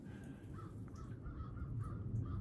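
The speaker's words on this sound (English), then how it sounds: "Or crows, preferably ravens." Crows caw several times in a loose rhythm around a winter log cabin build on an off-grid homestead. The calls are faint and distant over a low, steady rumble of background noise.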